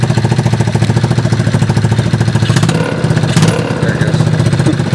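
A small golf cart engine with a winch runs close and loud, a rapid steady chugging pulse like a small mower motor, with a brief clatter midway and no talk.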